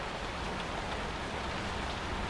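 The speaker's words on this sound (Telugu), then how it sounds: "వర్షం ఆగేటట్టు కనిపించట్లేదు." Steady rain falls during a scene from a Telugu romantic film, an even, continuous hiss of drops at moderate loudness with no voices heard.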